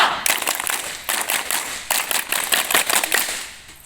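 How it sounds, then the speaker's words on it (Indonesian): Indonesian scouts at a school anniversary assembly perform the tepuk pramuka, a patterned group clap: loud, sharp bursts of many hands in a quick rhythmic sequence, repeated twice with brief pauses between, and no talking over it. "Dua kali tepuk pramuka."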